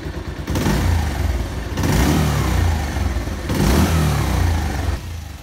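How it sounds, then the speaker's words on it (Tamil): A motorcycle engine revved hard after carburettor tuning, three loud sustained throttle bursts separated by brief drops back toward idle, close by with no talk. "ஆக்சிலேட்டரை நல்லா ரேஸ் பண்ணி என்ஜின் ரெஸ்பான்ஸ் எப்படி இருக்குன்னு செக்"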